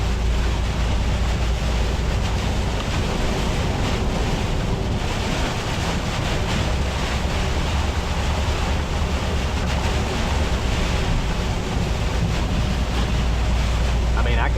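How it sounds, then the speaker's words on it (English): Heavy rain beats on a moving truck on a road trip to Florida, a dense, constant roar mixed with low road and wind rumble that stays loud and steady throughout. "it's raining pretty hard"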